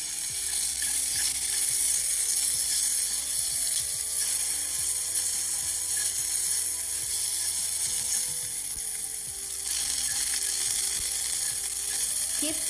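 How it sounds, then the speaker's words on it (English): Beef fat rendering over high heat in a pan with a teaspoon of oil, a loud, dense, continuous sizzle with faint rattling and scraping underneath, holding steady throughout. "now I render the beef fat so that we can stir fry the beef."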